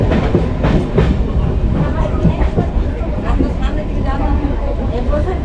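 Crowded passenger train on the Purulia–Howrah line running on rails, a loud continuous rumble with rhythmic clickety-clack, heard from inside the carriage over a babble of passenger voices.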